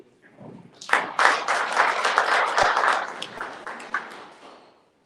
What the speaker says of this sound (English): Please, just an applause